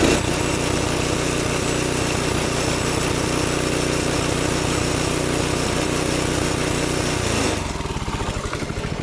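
A 6.5HP Honda clone small engine on a Baja Warrior minibike runs steadily and loud close by, then drops in pitch and settles into a slower idle near the end.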